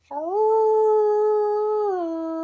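A person imitates a dog's howl with a single sustained, loud, wavering tone that holds steady, then drops in pitch at the end.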